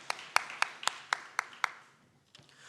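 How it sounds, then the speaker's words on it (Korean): A church congregation claps together in blessing during a dawn prayer service, about eight crisp rhythmic claps at a steady beat, moderately close, then trailing off into a few scattered soft claps. "우리 축복의 박수 하도록 하겠습니다."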